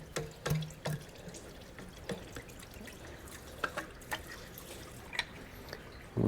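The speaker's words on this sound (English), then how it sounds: "there's a lot of coolant coming out of this thing" Coolant drains from a Ford Flex 3.5 EcoBoost engine into a catch pan, faint trickling with irregular drips and splashes, quiet and close with no talking.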